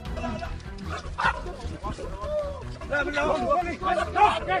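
Excited dog barking and yipping repeatedly with whimpers at a baboon, mixed with background chatter and other animal cries, fairly close and lively.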